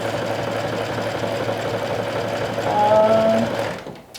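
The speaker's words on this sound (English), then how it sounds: "this is an overcasting stitch that I am doing with" A sewing machine running an overcasting stitch on fabric, a continuous close mechanical whir and rapid needle clatter that rises slightly near the end before stopping abruptly.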